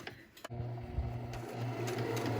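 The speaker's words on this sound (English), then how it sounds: "And I'm going to sew right to that mark." A sewing machine stitches fabric for a face mask with a steady, close, humming whir that runs almost without break after a brief click, and there is no talk.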